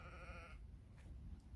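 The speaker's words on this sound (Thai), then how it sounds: "ประเทศเวลส์หรือสหราชอาณาจักรดูแกะเต็มภูเขาเลย" A sheep on a mountainside near Rhymney, Wales gives a single clear, wavering bleat, fairly close, over steady outdoor wind noise, followed by quieter ambient rustle.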